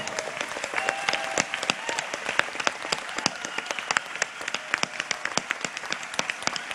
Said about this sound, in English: Big round of applause for the elders and the youth.